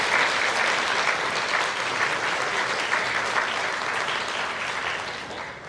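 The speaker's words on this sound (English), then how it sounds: "Let's give them a quick round of applause." An audience at a teaching effectiveness symposium gives a dense, steady round of applause that lasts throughout and fades slightly toward the end.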